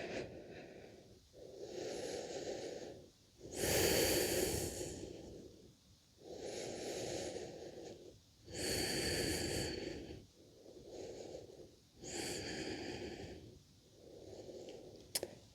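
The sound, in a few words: breathing during a yoga flow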